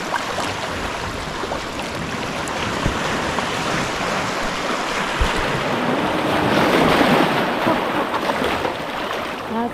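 Ocean waves crash steadily against shoreline rocks, a loud, continuous roaring wash with surges building toward the end, mixed with wind noise and no talk.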